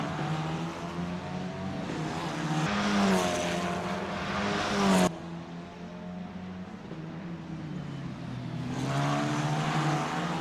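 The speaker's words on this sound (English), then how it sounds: "you can hear the engine note dipping in the slow corners" Formula 4 race car engine in Assetto Corsa at Townsville, a continuous droning note that rises and falls with gear changes, dipping through slow corners and climbing again, heard alone at moderate level.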